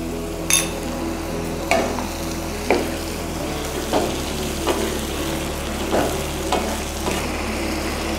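Onions frying in a pan as the base for a mutton curry, a steady sizzle over a low hum, broken by about eight sharp scraping stirs of a spatula at fairly regular intervals.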